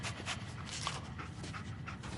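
Dogmeat, the dog companion in the Fallout 4 video game, pants steadily in a quick rhythmic series of close breaths over a low game ambience, with no talking.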